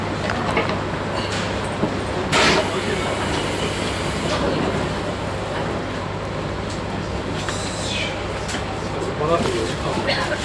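Train rumble and rail clatter fill the platform as voices and an announcement carry over the noise, as a JR 719 series local train on the Banetsu West Line departs for Aizu-Wakamatsu.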